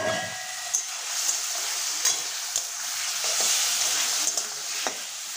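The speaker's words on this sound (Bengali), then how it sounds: "আমি এবার সয়াবিন আর আলু দিয়ে দিচ্ছি" Soybean chunks and potatoes fry in a cooked spice paste, giving a loud, steady hiss and sizzle with a light clack of a spoon against the pan every second or so as it is stirred.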